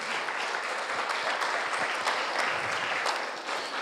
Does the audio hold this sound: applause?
yes